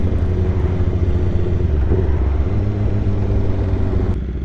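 Motorcycles pull away from an evening bike meet, their engines forming a loud, steady, close rumble that stays constant throughout.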